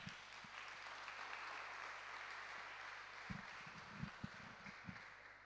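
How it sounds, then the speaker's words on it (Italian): Congregation in a church applauding, a steady, fairly faint patter of clapping with a few sharper claps toward the end. "Applaudiamo al Signore."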